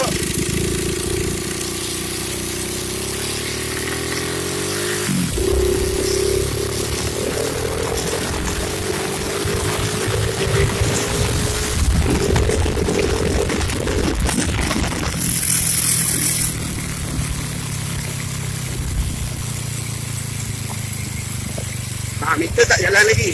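A restored 122cc Honda C70 Cub motorcycle engine runs close by, its note rising and falling with revs over a steady idle, with a few clunks and shifts along the way.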